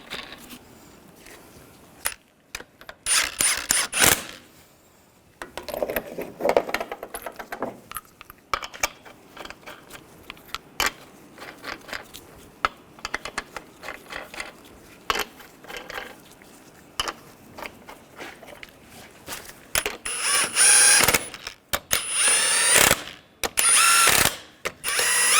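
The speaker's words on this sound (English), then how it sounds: "Get the lug nut started." Lug nuts being threaded and snugged onto a 2014-2018 GMC Sierra 1500 wheel with a ratchet, irregular bursts of rapid clicking, louder and denser toward the end.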